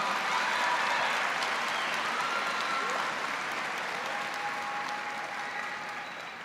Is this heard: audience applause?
yes